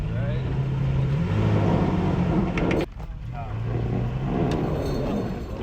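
A Toyota off-road vehicle stuck on a dirt hillside in Toiyabe National Forest, its engine droning and revving loudly and close, dropping off briefly midway before surging again, with people talking over it.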